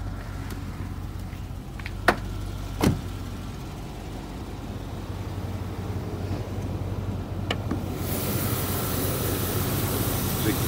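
A Range Rover 4.6 HSE V8 out on a drive, with a steady engine and road rumble from inside the vehicle, a couple of sharp knocks early on, and a rising rush of wind noise toward the end.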